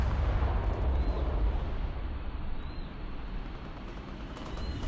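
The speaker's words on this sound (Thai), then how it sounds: "โอ้โหโดนระเบิดแล้วครับ เละครับ ห้องเครื่อง ลูกเรือเหลือแค่ยี่สิบห้าเปอร์เซ็นต์" Explosion striking a warship in a warship-versus-tank video game, a low heavy rumble and roar with booming bursts, continuous and loud beneath faint high tones.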